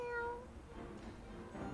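A cat meows in the Psychonauts 2 video game, a short, clear, moderately loud call that trails off into quiet game ambience.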